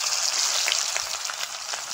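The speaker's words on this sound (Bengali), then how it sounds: "পেঁয়াজ রসুনটা লাল লাল করে ভেজে নেব।" Chopped onion and crushed garlic fry in hot oil with bay leaf and five-spice, a steady close hiss of sizzling with soft crackles and faint pops throughout.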